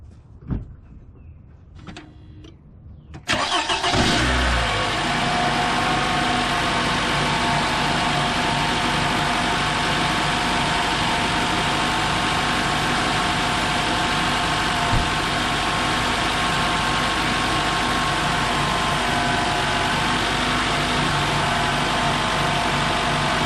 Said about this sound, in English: So let me crank this up.